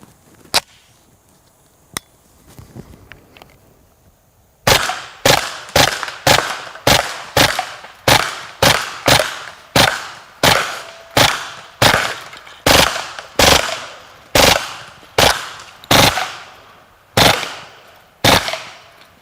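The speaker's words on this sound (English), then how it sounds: "you can actually hear the difference in the rate of fire between the Plus P ammunition and some of the regular ball ammunition" Kriss Vector submachine gun firing Plus P and regular ball ammunition outdoors, a couple of isolated single shots, then a long run of loud, sharp, evenly spaced reports with ringing decay.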